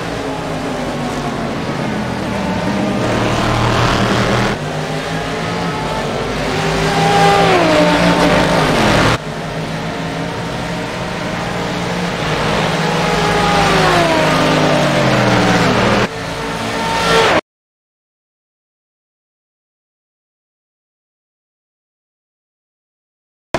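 A '28 Corvette in a racing video game, its engine revving and climbing through gears in repeated rising sweeps, loud and continuous, then cutting to silence.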